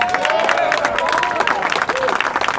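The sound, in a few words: applause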